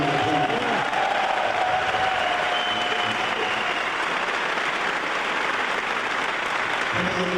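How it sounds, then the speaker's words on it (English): A theater audience at a stage show gives a round of applause, a dense, loud, steady clapping that fills the whole stretch without letting up. "So let's give Male Hide a nice round of applause."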